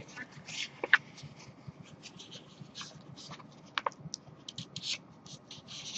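A paper envelope is folded repeatedly along its diagonal, giving soft, close crinkles, creases and scratchy rubs scattered irregularly, with a few sharper crackles.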